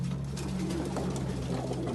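Racing pigeons in a loft give low, rolling coos, several birds overlapping in a steady near murmur for two seconds with no talk.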